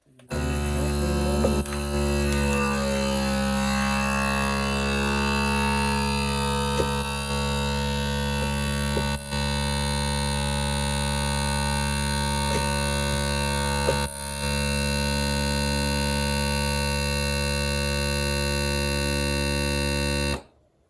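A Nesco food vacuum sealer runs steadily with a loud, continuous motorized buzz and hum that holds for about twenty seconds, with a few brief dips, then cuts off.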